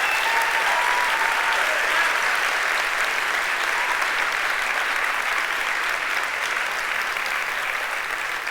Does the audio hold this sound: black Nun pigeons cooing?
no